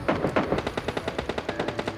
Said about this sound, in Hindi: तभी राइट साइड भी गोलियां चल रही थी